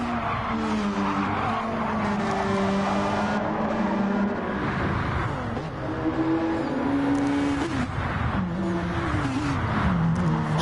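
Race cars in a PS4 racing game: several engines whine and drone at once, with pitch rising and falling through gear changes and tire squeal, loud and continuous with no talk.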